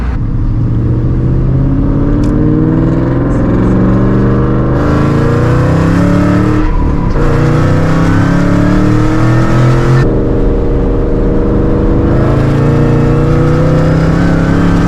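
A Ford Mustang GT500 drives hard, its engine droning loud and close with rising and falling revs through several gear changes and repeated bursts of acceleration. No voices are heard over the steady engine roar.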